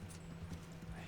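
Horse hooves clip-clopping on a path in Red Dead Redemption 2, a steady rhythmic series of close, moderate hoofbeats over a constant low hum.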